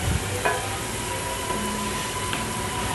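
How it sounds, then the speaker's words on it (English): Cream boils in a pan with vegetables and meat, giving a close, steady bubbling sizzle with a few soft stirring scrapes and no talk. "And we're just letting this boil so that the cream can absorb into the vegetables and the meat."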